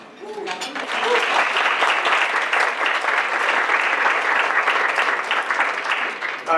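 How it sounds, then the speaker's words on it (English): A large audience at a talk on students' questions about drugs breaks into sustained applause, dense clapping that swells quickly and holds steady and loud for over six seconds. "I applaud you, and you should applaud yourselves."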